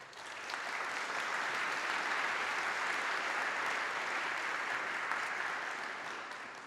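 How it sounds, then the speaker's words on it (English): An audience at an evening lecture event applauds honored guests with sustained, even clapping. It is moderately distant and swells and then gradually fades. "Would ask you please give them a round of applause."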